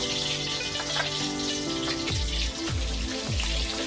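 Shrimp frying in hot oil two or three at a time for a stir-fry with chili, salt, garlic and pepper: a loud, steady close-up sizzle with bubbling and popping throughout.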